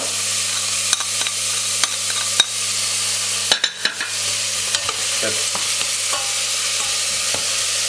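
Onions and garlic caramelize with brown sugar in a pan for chickpea curry. A loud, constant hiss of frying runs throughout, broken by several sharp clinks of a utensil stirring against the pan.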